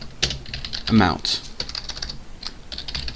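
Rapid clicks of a computer keyboard being typed on during Java programming, close and steady, with someone briefly speaking over the keystrokes.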